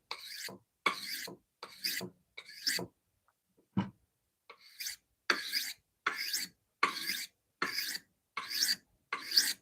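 A steel blade bevel is drawn across a 400 grit sharpening stone in a steady series of about a dozen separate rasping strokes, each a short gritty scrape with brief pauses between, close and fairly quiet.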